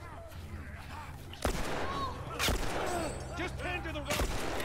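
Gunfire in The Last of Us Remastered, with several sharp broadband shots spaced a second or so apart over a busy game soundscape of tonal music and ambience.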